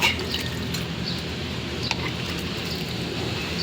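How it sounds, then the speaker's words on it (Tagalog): Water is poured steadily into a container, making a continuous quiet splashing trickle that runs evenly from start to finish. "Lagyan natin ng tubig."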